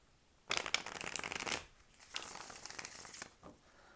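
Tarot cards are riffled and shuffled up close during a reading, with a loud burst of papery flutter followed by a softer, longer stretch of shuffling and no voice.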